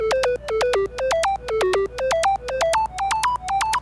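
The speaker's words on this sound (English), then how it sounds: "The main source of this sound comes from the harmonic series wavetable" Bright synth plucks from a harmonic series wavetable play in a quick, even run, each note sliding into its pitch with mono glide, loud and alone.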